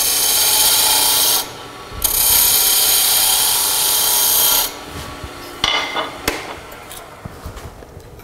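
A wood lathe spins near 1800 RPM while a tool cuts a wooden toy top, giving a loud, steady broadband rasp in two long passes, then broken, scraping contact sounds as the cut eases off.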